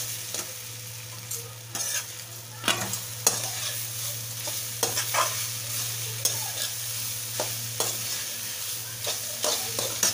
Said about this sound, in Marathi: 2 मिनिटं हलवून घेऊया।